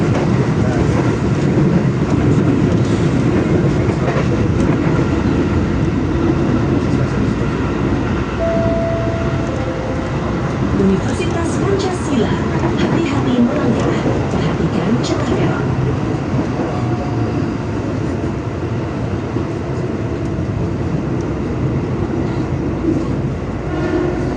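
A KRL commuter train runs steadily from Jatinegara station, with a loud continuous rumble and rattle of the carriage throughout and faint voices in the background.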